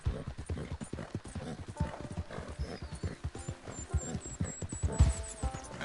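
Horse hooves in a video game clip-clop in a steady trotting rhythm, close and continuous, with a faint whinny and soft background tones.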